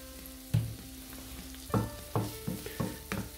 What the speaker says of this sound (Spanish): Y lo ponemos a dorar otro minutito.